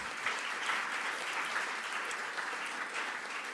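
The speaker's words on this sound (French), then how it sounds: "Applaudissez-les tous, on les applaudit chaleureusement" A gala crowd applauds warmly at an entrepreneurship awards ceremony in Montréal, with dense, continuous clapping from many hands held at an even, moderately distant level throughout.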